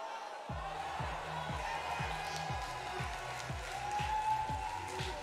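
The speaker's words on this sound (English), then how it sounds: "Capacity crowd right here tonight, New York City." Capacity crowd at the Manhattan Center in New York City in WWE 2K19, a steady roar of cheering spectators throughout, with a rhythmic thumping beat underneath.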